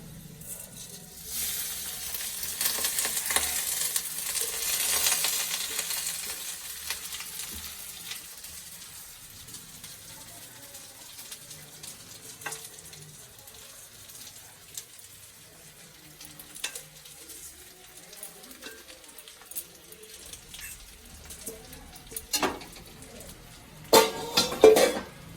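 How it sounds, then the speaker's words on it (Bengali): Rice being stir-fried in a pan for basanti pulao, with cashews and raisins already fried in the oil: a steady soft sizzle with scraping stirs, louder early on, then quieter, with a few sharp utensil clinks near the end. "ভাজা হয়ে গেছে, এবার আমি চাল দিয়ে দেবো"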